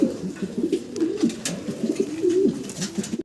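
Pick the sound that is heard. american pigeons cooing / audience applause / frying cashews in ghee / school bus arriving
american pigeons cooing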